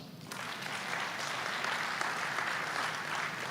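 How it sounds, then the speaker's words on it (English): An audience breaks into applause at a cryptocurrency coin summit at the Motor Enclave in Tampa, Florida; clapping starts abruptly and holds as a loud, steady crowd roar. "Give them a round of applause."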